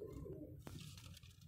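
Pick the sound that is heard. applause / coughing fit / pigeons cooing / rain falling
pigeons cooing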